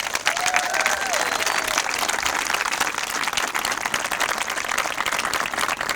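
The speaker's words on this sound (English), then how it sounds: "So how about a big round of applause for our future?" Sustained applause from an audience at an elementary school graduation ceremony, a dense, steady patter of many hands clapping with a faint cheer mixed in, close and fairly loud throughout.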